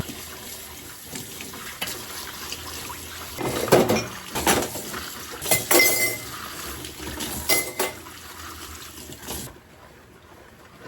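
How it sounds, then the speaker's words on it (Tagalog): Dishes being washed in a home kitchen sink, with running tap water and scattered clinks of plates knocking together at close range, rising and falling over several seconds with no talking. "Hugasan ko lang itong mga pinggan na pinagkainan namin kanina."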